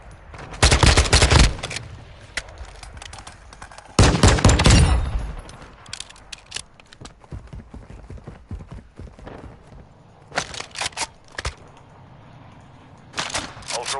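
Bursts of automatic gunfire in a Call of Duty match rattle loudly in two long volleys early on, followed by scattered shorter bursts and single shots over quieter battlefield ambience.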